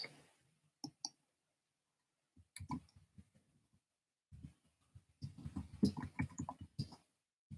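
Keys on a computer keyboard are typed, starting with a few sparse, isolated clicks and building into a quick flurry of close, crisp taps near the end.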